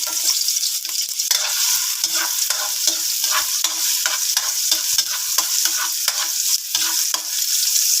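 Ginger and vegetables sizzle loudly in a hot pan for a crab dish with squash, long beans and moringa, a bright steady hiss with rapid, repeated scraping strokes of a spatula throughout.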